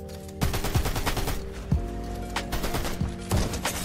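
Pump shotgun blasts in Fortnite, roughly six sharp booming shots at irregular intervals over a steady bed of game ambience, with no talking.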